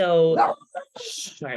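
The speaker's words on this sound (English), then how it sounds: "we have 2 dogs, they're very loud ones." A dog barks sharply a few times close by while a person talks over and between the barks.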